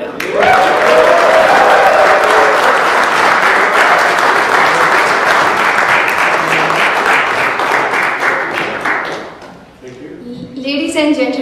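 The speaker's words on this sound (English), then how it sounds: "please give our panel a very warm round of applause" A large audience at a cricket league roadshow in New York City gives a panel sustained, loud applause, a dense wash of clapping that fades near the end before a voice begins speaking.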